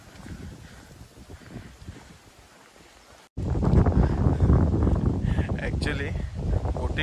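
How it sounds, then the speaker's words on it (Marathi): Strong wind gusts over a lakeside viewpoint at Tapola in Maharashtra during a boating outing, buffeting the microphone with a low, roaring rumble that turns much louder and heavier partway through. "खूप वारा सुटलेला आहे"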